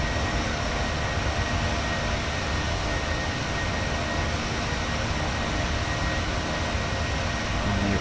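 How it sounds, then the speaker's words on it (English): Constant, loud broadband roar of a Boeing 737-600's engines heard from inside the cabin as the airliner banks through a turn, steady and unbroken with no voices. "Hopefully you can hear me because of the engine noise."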